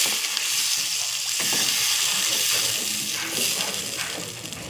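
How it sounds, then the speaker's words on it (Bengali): Water hits a pan of oil with fried bay leaves, bursting into a loud, broad sizzle with bubbling and hiss that stays strong before gently easing. "আমি একটু জল দিয়ে দিচ্ছি"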